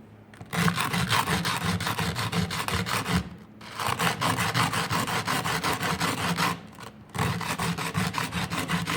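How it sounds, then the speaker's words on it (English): Steady back-and-forth rasping of sandpaper on a hidden tang antler-handled knife, worked toward 800 grit, in continuous close strokes with two brief pauses. "we're gonna sand this thing down to 800 grit and then etch it."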